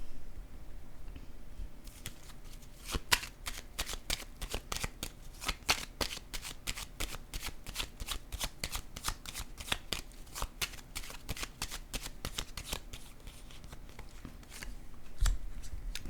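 A deck of cards is shuffled and laid down for a card reading, producing a long run of quick, crisp riffling snaps and soft taps, close and fairly quiet, with no voices.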